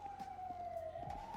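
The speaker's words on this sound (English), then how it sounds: "The siren's really loud." Police car siren in a video game, a faint continuous wailing tone that slowly falls and rises, with no talking.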